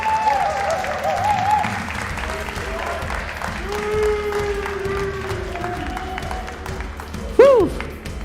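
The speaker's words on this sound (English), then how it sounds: "Give a big round of applause to our 2 grand finalists right here on stage." An esports arena crowd applauds the two grand finalists on stage at a Brawl Stars tournament, steady clapping and cheering beneath tonal music and announcer-style voices, with a brief louder swell near the end.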